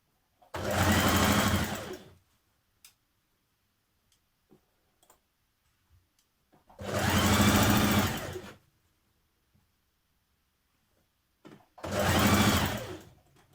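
A sewing machine stitches a waistband casing onto trousers in three bursts of rapid mechanical whirring, each about one to two seconds long, close and loud, with quiet pauses between them.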